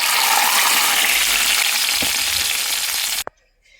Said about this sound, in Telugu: ఇప్పుడు మనం ఈ తాలింపు తీసుకెళ్ళి పప్పుచారులో పోసేద్దాం.